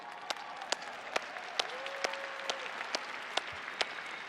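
Audience at a 2019 conference session claps in a faint, distant patter of applause, steady with sharper individual claps standing out, and no talking over it.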